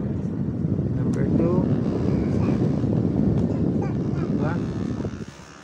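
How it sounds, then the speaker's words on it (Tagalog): A homemade 12-volt blower fan runs with a steady, loud rushing of air that fades near the end, while someone talks briefly over it. "12 volts na blower."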